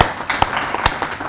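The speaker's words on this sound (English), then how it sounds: "Let's give him a brief round of applause." Brief round of applause at a talk, several quick claps close together, fairly loud, over about a second.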